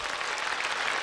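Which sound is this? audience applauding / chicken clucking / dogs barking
audience applauding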